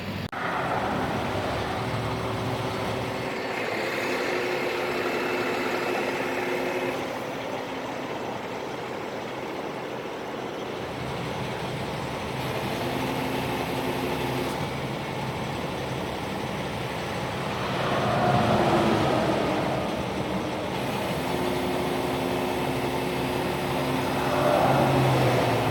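A 2011 Dodge turbo diesel tow truck engine idles steadily from inside the cab, a constant low rumble with faint tonal hum, swelling slightly louder twice near the end.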